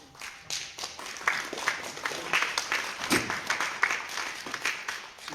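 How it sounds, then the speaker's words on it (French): Audience applause fills a French ufology congress hall in a sustained wash of many hands clapping, steady and moderately loud with no clear voices above it. "C'est Gildas qu'il faut applaudir."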